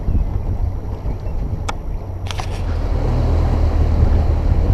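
A Mercury outboard boat engine runs during its break-in with the jack plate down, a steady, close, droning rumble that grows slightly louder toward the end, with wind across the microphone.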